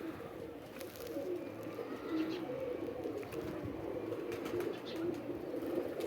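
Flock of racing pigeons cooing softly and repeatedly at close range, low throaty coos layered over a busy loft background with faint wing and chirping sounds.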